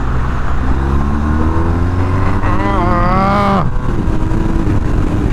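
A 2020 BMW R1250R motorcycle accelerates hard, its engine rising through a climbing rev, then dropping sharply at a shift. A steady wind roar sits underneath throughout.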